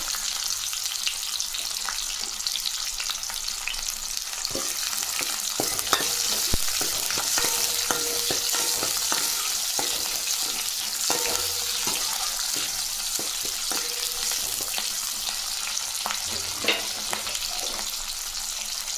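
Green and dried chillies fry in hot oil with a steady sizzle, and occasional crackles and stirring scrapes sound throughout.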